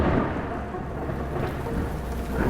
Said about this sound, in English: Only distant thunder breaks the silence in the vehicles.